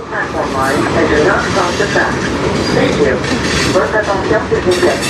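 CN manifest freight train led by locomotives 3185 and 5629 passes near on the Strathroy Subdivision, rumbling and clattering steadily while a voice speaks over it.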